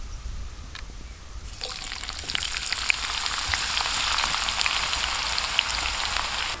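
Onions dropped into hot oil in a pan for quail egg biryani burst into a loud, steady sizzle after a quieter start, the frying hiss continuing evenly to the end.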